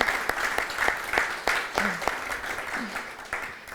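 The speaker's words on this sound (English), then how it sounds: "So that deserves applause." An audience at a public meeting on amending Chicago's Welcoming City Ordinance claps, a fairly faint round of scattered applause with a few louder individual claps, a voice calling out briefly underneath.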